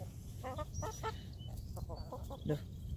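Backyard hens clucking nearby, a run of short, soft, overlapping clucks over low rumbling outdoor noise, fairly quiet and steady throughout.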